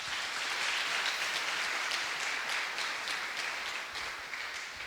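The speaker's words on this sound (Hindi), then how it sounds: "तालियां बजाएं और उसको धन्यवाद दें।" A crowd applauds steadily throughout, a dense wash of many hands clapping at fairly even loudness with no voices on top.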